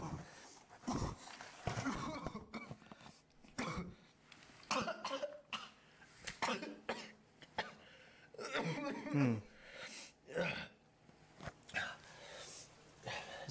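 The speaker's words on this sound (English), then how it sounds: "His cough's not bad, but it needs some work." A person fakes a cough in short, rough bursts, several deliberate coughs spaced between pauses, close to the microphone.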